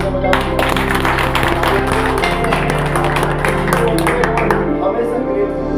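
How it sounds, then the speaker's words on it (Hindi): An audience claps at a Hindi-language honoring ceremony, a steady patter of many hands running throughout, fairly close and loud over a low hum and murmured voices. "एक बार अपने सारे ग्रेट अपलाइनों में तालियां बजाओ"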